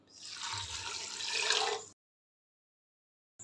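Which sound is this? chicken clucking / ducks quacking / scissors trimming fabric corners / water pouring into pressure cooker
water pouring into pressure cooker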